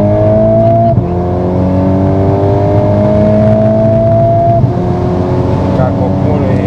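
A tuned stage 2 VW Golf 8R, about 480 hp, accelerates hard on a run, its engine drone climbing steadily in pitch with a gear change near the start and another later, loud from inside the car.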